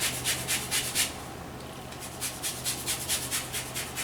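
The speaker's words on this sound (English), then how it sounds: "Now I'm just going to zest some of this right into our whipped cream." An orange being zested into whipped cream, its peel rasping against a grater in a quick series of short strokes that pause briefly midway and then resume, close up with no talking.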